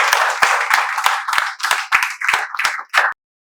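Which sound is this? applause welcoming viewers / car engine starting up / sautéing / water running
applause welcoming viewers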